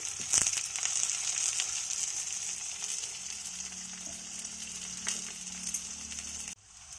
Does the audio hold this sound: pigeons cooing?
no